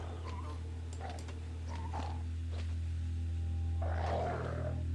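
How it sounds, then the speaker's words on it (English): Bone dogs attacking in the video game Kenshi, a series of short snarling growls and yelps over a constant low droning hum, a louder burst near the end. "Bone dogs attack fast."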